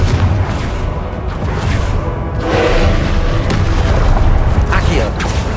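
Repeated fiery blasts of the Confringo spell in Hogwarts Legacy, loud booming bursts layered over dense continuous battle noise, with a voice shouting spell incantations throughout.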